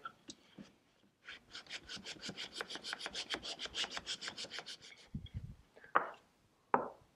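Wood is sanded by hand with 220 grit sandpaper, giving a quick run of rhythmic back-and-forth rasping strokes close up, followed by a few scattered scrapes and two sharp brushing sweeps.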